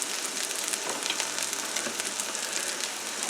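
Garlic butter shrimp fry in a pan, giving a steady, dense, close sizzle with fine crackling that stays even throughout, no talking.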